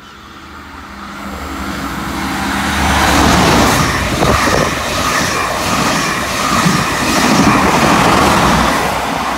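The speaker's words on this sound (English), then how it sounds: "here we have the Sydney to Grafton XPT about to race through platform number 2" An XPT express passenger train from Sydney to Grafton races through a station platform, its rumble building from a low engine drone into a loud, sustained rushing roar of wheels and carriages close by.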